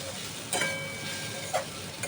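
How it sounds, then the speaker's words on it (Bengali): Ground cumin, coriander and chili powder stirred in a hot pan, a soft steady sizzle broken by two or three brief scraping strokes of the spoon, close and fairly quiet with no talking. "আমি সামান্য পরিমাণে জিরের গুঁড়ো, ধনের গুঁড়ো আর লঙ্কার গুঁড়ো দিয়ে একটু নাড়াচাড়া"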